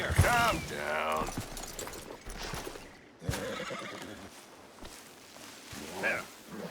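A horse in the video game Red Dead Redemption 2 neighs loudly with a shrill, wavering whinny, followed by clattering hooves and rustling movement, with another shorter neigh near the end.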